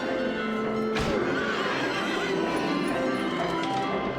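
Horses in the video game Silent Hill whinny and neigh over a steady clatter of hooves, with a sharp loud burst near the start and continuous busy game ambience throughout.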